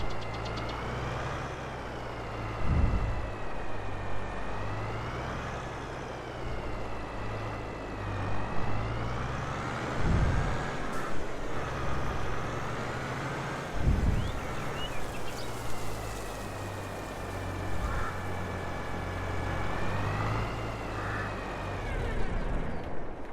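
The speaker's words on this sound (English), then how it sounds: "That's a good running tractor right there." Farm tractor engine idling steadily at close range, a low continuous rumble with a rough knocking pulse and a few louder thumps and revs, with no talking over it.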